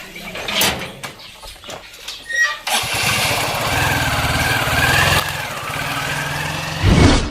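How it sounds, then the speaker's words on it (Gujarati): A motorcycle engine is cranked after a few knocks and clatters, then catches and settles into a steady, loud idle close by, with a brief rev near the end. "આ બાઈક ચાલુ પડશે"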